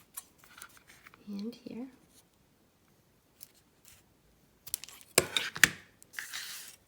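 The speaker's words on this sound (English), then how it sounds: "So I'm just gonna cut here" Scissors snipping through paper while cutting petal shapes for a paper flower, heard as a cluster of crisp close cuts and rustles, with a soft voice speaking briefly in the middle.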